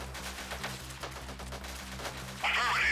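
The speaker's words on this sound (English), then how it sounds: "Under heavy enemy fire!" Dense gunfire rattles through a skirmish in the strategy game Freeman: Guerrilla Warfare, a steady wash of overlapping shots with a louder burst near the end, heard continuously without pauses.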